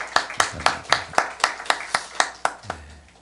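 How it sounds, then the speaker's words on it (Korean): A church congregation at a Holy Week early-morning prayer service claps in thanks after a sung hymn, about a dozen evenly spaced, sharp rhythmic claps close and loud, ending with a low murmur. "우리 다시 한번 감사의 박수 하시겠습니다"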